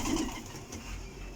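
Pigeons cooing in a loft of high-quality breeding birds, soft low coos close by over a steady background hum, with a brief flutter.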